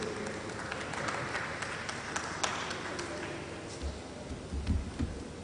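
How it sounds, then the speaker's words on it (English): Faint, distant crackle of applause from a conference audience at a scientific annual general meeting welcomes a professor, steady throughout, with a few low thumps near the end. "Please help me with a round of applause as I make welcome Professor Badegesan"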